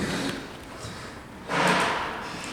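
A sliding door of an Otis GEN2 machine-room-less traction elevator in a hotel moves with a soft rolling whoosh that swells midway, over a steady background hum.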